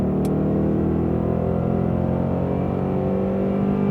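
Ford Mustang accelerating at full throttle during a driving course, heard from inside as a steady, loud engine drone with rising pitch, continuous and uninterrupted.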